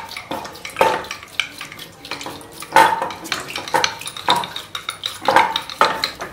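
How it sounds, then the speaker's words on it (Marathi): Cooked dal being churned with a wooden churner in a pot: a run of close, irregular clattering and swishing knocks with uneven rhythm, moderately loud and without speech. "रवीने घुसळून घ्यायची एक जीव पाहिजे असेल तर"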